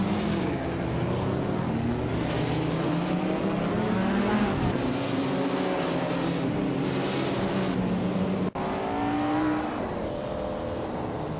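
Several 1959 Maserati Tipo 61 Birdcage racing cars launch off the line in a video game, engines loud and close, revving and rising in pitch through overlapping gear changes, with a brief cut near the end.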